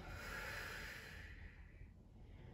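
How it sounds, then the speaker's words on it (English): A long, breathy exhale during mat pilates, soft and close, a single airy rush that fades gradually over a couple of seconds with no talking. "Exhaling."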